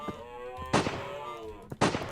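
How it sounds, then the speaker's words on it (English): Two sharp gunshot blasts in the video game Nevermine 2: Precasia, about a second apart, loud and close, each with a brief ringing tail, over a steady electronic hum. "we could probably use our gun"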